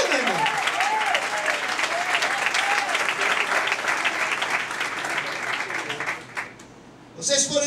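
A church congregation at a communion service claps together in loud, sustained applause, with a voice calling out over the start. The clapping thins and fades near the end.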